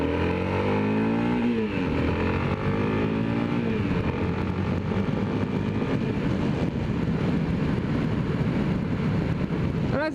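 A Yamaha XT660R motorcycle cruising at highway speed, its engine droning loudly and continuously under heavy wind rush, with a brief rising rev early on.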